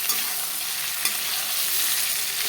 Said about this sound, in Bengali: দেখো সিম, আলু আর পেঁপেগুলো ভাজা হয়ে গেল।